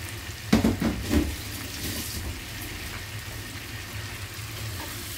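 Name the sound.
marinated fish frying in a pan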